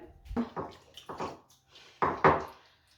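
Tamarind water is poured into a simmering curry in a series of short splashy bursts, close by and fairly quiet, with brief pauses between pours.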